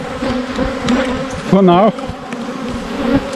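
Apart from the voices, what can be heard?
bees buzzing around destroyed beehives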